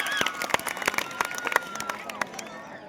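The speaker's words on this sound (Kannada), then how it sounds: "ನೋಡಿದವ್ರೆಲ್ಲರೂ ಚಪ್ಪಾಳೆ ತಟ್ಟ ಒಂದ್ಸಲ ಜೋರಾಗಿ ಜೋರಾಗಿ" Kabaddi spectators at a village fair match clap in a loose, uneven patter of sharp claps over a murmuring crowd, with voices mixed in.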